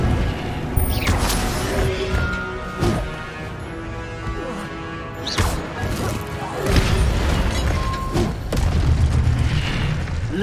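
Incendio fire spell cast in Hogwarts Legacy, heard as heavy booming bursts and crashing whooshes of flame that repeat several times over a loud, busy game soundscape.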